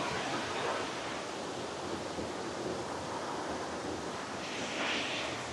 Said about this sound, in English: Can hear the sound of the water.